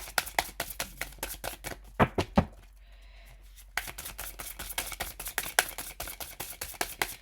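Cards are shuffled at close range, a series of sharp papery riffles and taps in an irregular rhythm, with a short quiet pause midway and no voices.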